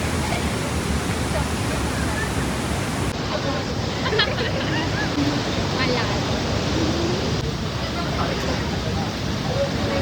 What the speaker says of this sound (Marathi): आज आम्ही आलेलो आहे बालाजीच्या धबधब्यावर